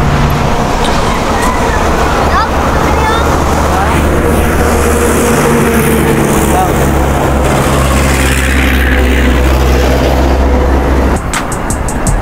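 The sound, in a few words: motorcycle riding on a bypass road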